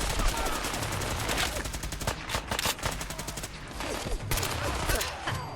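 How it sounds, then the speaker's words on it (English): Sustained rapid minigun fire in Fallout 4 gameplay, a dense rattling burst that runs almost without pause, with a few brief dips, fairly distant and moderate in level. "There goes the minigun."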